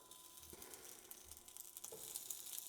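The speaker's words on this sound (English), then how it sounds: "You can hear it starting to sizzle already." Store-bought scrapple, plain and bacon varieties, frying in a hot pan with a steady hiss and crackle that builds slightly, close and alone.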